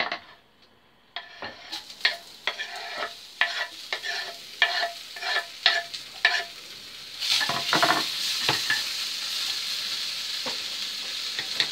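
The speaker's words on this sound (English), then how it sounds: "Now these things are going to go back onto the frying pan." Flatbread fillings sizzle in a frying pan with repeated scraping and stirring clatters, the frying hiss growing steadier and louder toward the end.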